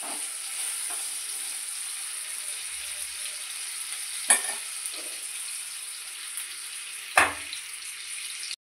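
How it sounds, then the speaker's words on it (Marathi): Potato pieces frying in hot oil for dum aloo, a Punjabi dish, over lowered gas heat, giving a steady hiss with a couple of brief clinks partway through, no talk. "आपल्याला यांना गोल्डन कलर येईपर्यंत फ्राय करून घ्यायचे आहे"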